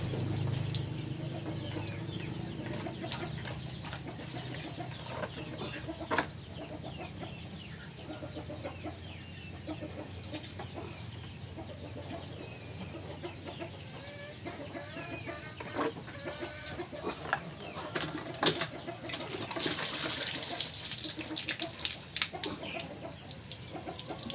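Chickens cluck steadily around a farmyard feeding area, a busy continuous flock chatter heard close with occasional louder calls and no talking.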